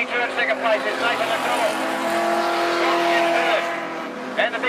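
Holden Commodore Outlaw Sedan race cars roar around the track during a heat, engines revving and shifting up and down close by beneath continuous race commentary.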